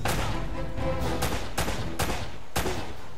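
Gunfire in the video game Uncharted: Drake's Fortune: four or five sharp shots spaced roughly half a second apart, punching through a steady layer of game music and ambience.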